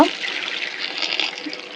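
Warm water, about 50 °C, pours steadily into a bucket to make a salt solution for soaking garlic, a continuous close splashing rush that lasts throughout.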